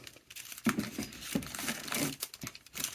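Thin nail art foils crinkle and rustle as they are handled and set into a desk drawer in a nail room, giving close, uneven bursts of crumpling with short pauses between them.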